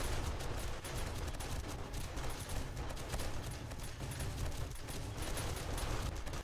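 An M60 machine gun fires in sustained, dense bursts during a wasteland horde night in the survival game 7 Days to Die, a loud, unbroken roar of rapid shots with no voices.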